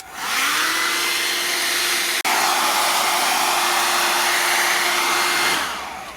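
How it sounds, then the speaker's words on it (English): A hair dryer heating plastic roars steadily at close range for about five seconds, with a brief cut partway through, then winds down at the end. "And then we're just going to heat it with a hairdryer."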